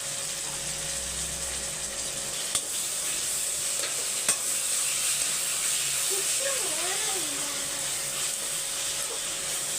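Tomatoes and ginger-garlic paste sizzle and fry in a pan for a mutton biryani dish, a steady close hiss with a couple of sharp clinks from stirring, no talking.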